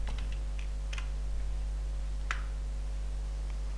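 Several keys are tapped on a computer keyboard to enter input into a program. A few sparse, light clicks sit over a steady low electrical hum, close and quiet.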